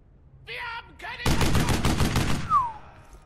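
MP40 submachine gun firing in the video game Brothers in Arms: Hell's Highway, a loud rapid burst of about ten closely spaced shots lasting over a second, with a brief game voice just before and a falling whine after.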